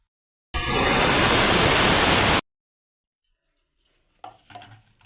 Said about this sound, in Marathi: आता ही डाळ आपल्याला छान अशी मिक्सरला बारीक फिरवून घ्यायची आहे